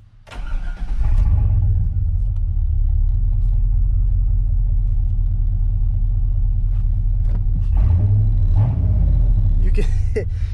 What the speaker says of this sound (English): You can definitely hear that cold air intake when you hit the throttle, though. Kind of makes a thunk noise.